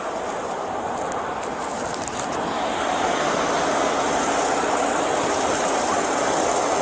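A train engine passes on a hot day, a steady loud rumble with a high whine that swells as it goes by and holds at full strength, with no talking.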